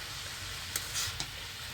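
Cane-shoot greens with potato and eggplant cooking in a pan, a soft steady sizzle with two brief stirring knocks close by.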